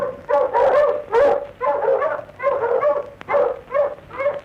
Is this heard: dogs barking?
yes